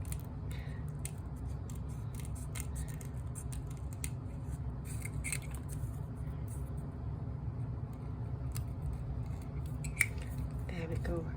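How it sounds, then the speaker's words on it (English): Scissors snip around the black outline of a printed card kit in a quiet room, a steady run of faint, irregular cuts over a low background rumble. "And we're just literally cutting around, using the black edge as a line, a guide."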